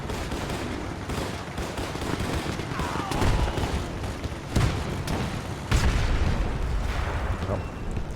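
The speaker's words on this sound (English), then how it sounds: "get my Brumbia to fire over here onto the KV-1" A Brummbär assault gun firing at a Soviet KV-1 tank in Men of War 2, set in dense battlefield noise of continuous gunfire and rumble with several heavy booms standing out, near and loud.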